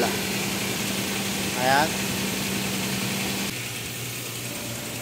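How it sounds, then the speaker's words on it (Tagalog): A rebuilt V6 engine idles steadily just after its first start following an overhaul, a constant low hum with a brief rising whine partway through, under a short spoken word. "So yan mga kaibigan yung unang andar ng ating overhaul."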